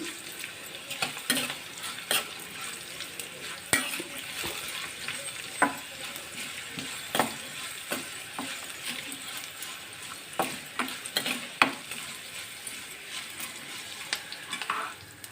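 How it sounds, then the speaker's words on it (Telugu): Tempering spices crackle and sizzle in a pan for a carrot fry, with a steady frying hiss broken by frequent scraping taps of a spoon stirring against the metal, heard close and without speech. "పోపు వేగిపోయింది కదండి"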